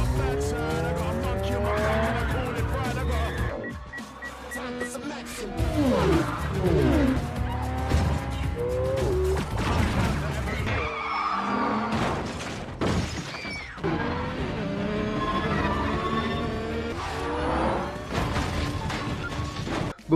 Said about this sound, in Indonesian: Shaw segera memacu mobilnya dan langsung dikejar oleh Brixton berikut anak buahnya